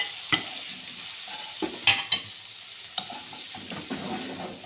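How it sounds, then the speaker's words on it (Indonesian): Ground spice paste for lemper sautéing in a wok, a soft steady sizzle with scattered scrapes and taps of a spatula stirring, fairly quiet and close, no voices. "Lalu kita tumis bumbu halus yang kita chopper tadi"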